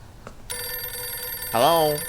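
A telephone in the horror game Silent Hill f rings with a bright, sustained electronic tone that starts abruptly, then a louder warbling ring swells near the end, with a faint voice just before it.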